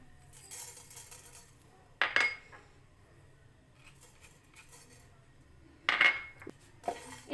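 Whole spices, black cardamom and peppercorns, dropped into a pan on the stove: two quick bursts of rattling clinks against the metal, spaced a few seconds apart, with quiet room tone between and no talking.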